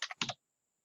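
A few quick computer keyboard keystrokes, about four close clicks in under half a second, then silence.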